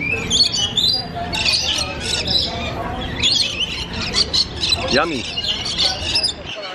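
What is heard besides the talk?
lorikeets squawking in an aviary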